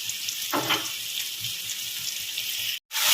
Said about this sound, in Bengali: জল দিচ্ছি এবারে পরিমাণ মতো।